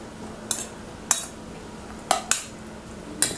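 Diced mango, red onion and cucumber mixed in a bowl, heard as five distinct clinks and taps of a utensil against the bowl over a quiet background.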